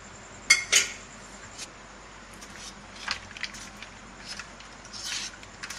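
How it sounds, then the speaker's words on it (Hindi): A spoon stirs hot sugar syrup in a ghee-greased pan, giving two sharp metallic clinks at the start and then softer scattered scrapes and taps, fairly close and with no talking. "चमचे चलाते रहेंगे ताकि ये अच्छे से ठंडा हो जाए।"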